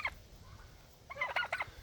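A Bourbon Red turkey tom gobbles at a farm pen, a brief call at the start and then a louder, rapid rattling gobble midway, heard fairly close over steady outdoor background noise.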